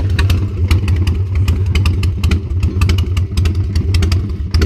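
A Harley Sportster motorcycle with lollipop exhausts idles loud and close, a steady lumpy throb broken by sharp irregular popping pulses, with no voices.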